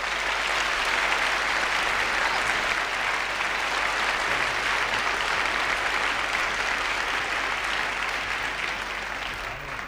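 A jazz concert audience applauds for a vocalist's trio of piano, bass and drums, a loud, dense and sustained roar of clapping that holds steady for about ten seconds.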